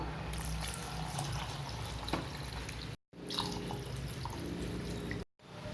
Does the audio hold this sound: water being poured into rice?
yes